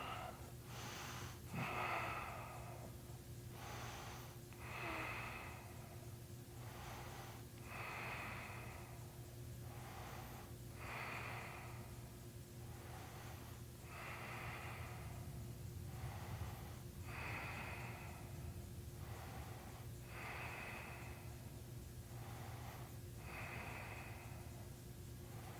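Slow deep breaths taken while holding a yoga pose, each inhale and exhale an audible airy rush repeating in an even rhythm every couple of seconds over a low steady hum.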